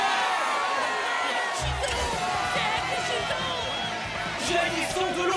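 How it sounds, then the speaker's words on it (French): Cartoon arena crowd cheering and whooping in a steady roar, with scattered shouts and sound effects mixed in throughout. "déchaînant les acclamations de la foule"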